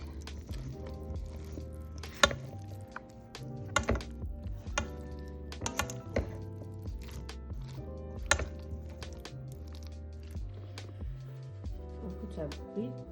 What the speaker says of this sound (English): you want to break some of the potato, but not too much